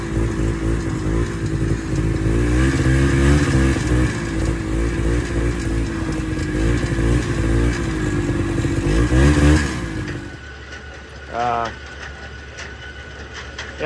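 A machine engine on a job with a broken crane runs and warms up, a loud, heavy rumbling drone with clattering that cuts off abruptly near the end, followed by quieter background noise.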